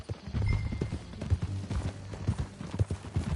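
Rapid, rhythmic hoofbeats clip-clop loudly and close, a horse moving at a steady trot for a few seconds with no talking, in the video game Red Dead Redemption 2.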